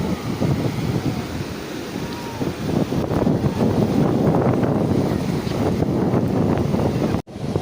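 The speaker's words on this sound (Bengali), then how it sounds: "তো বন্ধুরা ঢেউ হচ্ছে" Sea waves roll onto Bakkhali beach, a broad, loud wash of surf mixed with heavy wind buffeting the microphone, swelling and easing continuously with no clear breaks.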